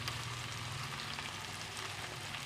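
Buro, Filipino fermented fish, sizzles steadily in a frying pan, a soft constant crackle and hiss with no voices over it.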